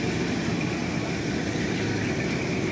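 A street machine car engine at a street machine nationals event in Du Quoin, Illinois, runs with a steady, loud, low rumble that holds constant throughout, with no revving or talk.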